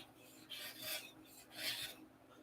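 Rasp filing across a wooden nose being carved, long rough scraping strokes repeating in a slow rhythm, close by and fairly quiet with no talking.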